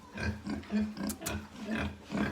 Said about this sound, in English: All these crazy pigs on this farm.